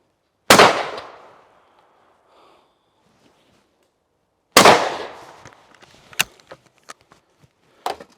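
A Yildiz Pro Black shotgun fires Fiocchi steel shot cartridges on an outdoor range, giving two loud, sharp blasts several seconds apart, each trailing off in a short echo, followed by scattered clicks and small handling noises.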